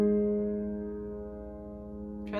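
A single piano chord, the opening chord of a song, is struck once and left to ring, fading slowly and alone, with a faint knock at the end.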